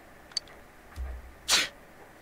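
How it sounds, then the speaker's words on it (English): A single short sneeze in the game Persona 4 Golden, after a faint click and a soft low thump, heard alone and fairly quiet. "You sneezed."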